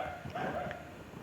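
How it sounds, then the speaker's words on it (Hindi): Dogs barking somewhere near an outdoor maths lesson in India, a short burst of yips and barks that stays steady and moderately loud with no talk over it. "भाई कुत्ते इधर ही भौंक रहे हैं क्या"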